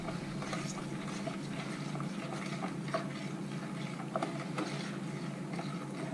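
Marble cake batter being stirred in a bowl, a steady, soft, wet clicking and scraping texture that continues evenly throughout, with no talking.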